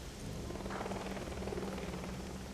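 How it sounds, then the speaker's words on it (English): Helicopters in the Shadowrun: Hong Kong video game, a steady broad rumbling whir of rotors holding throughout at moderate loudness with no talk. "Oh, helicopters."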